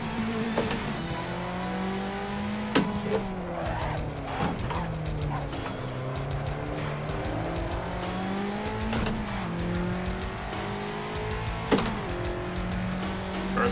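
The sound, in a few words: racing car engine and tire squeal in video game Assetto Corsa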